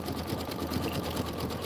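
A rapid, unbroken needle chatter and motor whir comes from an embroidery machine stitching a Kimberbell Let it Snow snowman applique block, close and constant with no voices.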